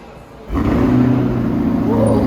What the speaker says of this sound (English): Engine sound.